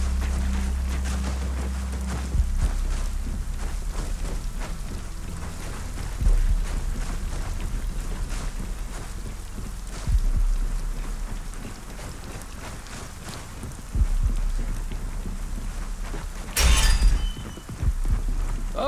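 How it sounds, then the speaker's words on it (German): Rain in the shooter game Gears of War 4, a constant broadband hiss of rainfall with rumbling low-end beneath and periodic heavier surges, plus a sharp crash-like burst near the end, without speech. "Und wir müssen schon wieder raus in den Regen."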